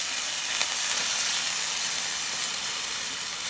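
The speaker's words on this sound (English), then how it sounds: "So while I crisp that bacon up" Bacon crisps up in a hot pan with a constant close hissing sizzle, steady and alone with no talk.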